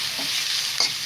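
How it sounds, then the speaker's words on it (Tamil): Ginger garlic paste sautés in a hot pan for ghee rice, a steady close sizzle with brief scrapes of stirring. "இஞ்சி பூண்டு பேஸ்ட்டு நல்லா வதங்கணும்."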